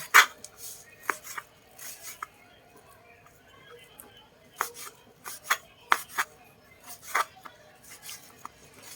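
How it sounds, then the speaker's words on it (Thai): A knife slicing pork on a cutting board for a Northeastern Thai bamboo-shoot dish, heard as irregular, close, crisp cutting taps and scrapes spread across the clip, fairly quiet, with occasional soft speech in between. "จะหั่นหมูก่อนนะคะทุกคนจ้า"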